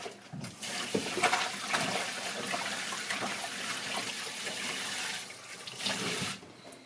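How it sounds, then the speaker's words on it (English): Tap water pours steadily into a sink as hands are rinsed, a close, even splashing rush with small bursts of change, quieting briefly at the end. "Got to rinse my hands."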